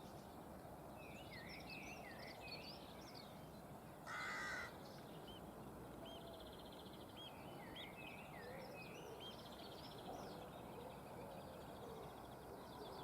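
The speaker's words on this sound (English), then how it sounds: "some more birdsong that I don't know" Morning birdsong near Rye, mostly crows cawing in repeated harsh calls at a moderate distance, over steady broadband outdoor noise with a brief louder burst partway through.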